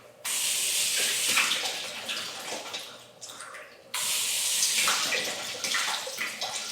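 A garden hose nozzle on its flood setting pours a broad, steady stream of water, close and loud, with a brief drop in force partway through before the full rush resumes.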